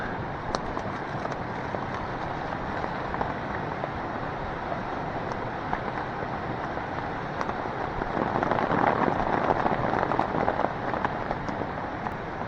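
Steady rain patters and hisses on surfaces at a tarp campsite throughout, with scattered sharper drops and a slight swell in intensity toward the end; no talking.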